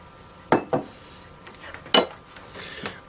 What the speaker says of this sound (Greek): Θα ανακατέψω λίγο και θα το ρίξω στο μείγμα μου.